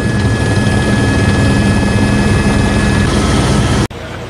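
A helicopter flies over typhoon-damaged Tacloban, Leyte, with a loud, steady rotor and engine roar close by that holds constant before cutting off abruptly near the end.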